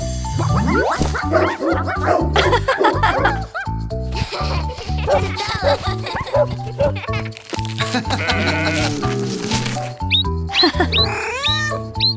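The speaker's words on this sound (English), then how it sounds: "It's a dog." A busy stretch of cartoonish animal calls, including dog barks along with meows and bleats, layered over music and continuing loudly without a break.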